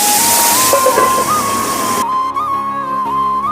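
Loud, steady sizzling of pabda fish frying in hot oil in a wok, with a constant high tone; the hiss thins out after about two seconds.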